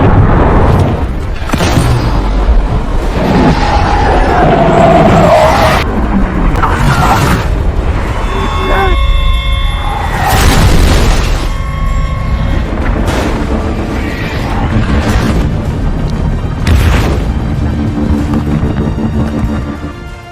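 Mortar attack explosions in a Balkan war film, heavy booms and bursts landing repeatedly through a dense, loud battle mix with shouting and score beneath.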